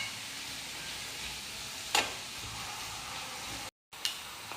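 Ingredients sautéing in a pan after lemon juice and soy sauce go in, for an elbow macaroni platter, a soft steady sizzle with a couple of sharp stirring clicks, fairly quiet and close.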